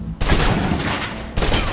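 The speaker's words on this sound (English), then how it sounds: "Still using cover, take some shots at the target." Gunfire rattles from a player shooting blind from behind cover in the game Alpha Protocol, loud close bursts of rapid shots in two quick volleys.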